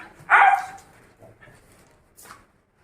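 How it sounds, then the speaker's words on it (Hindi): A house dog greets its returning family with one loud, close, high-pitched bark, then soft whimpers and a faint short yip afterward. "वो अभी ना लाड़ से भौंक रही हैं"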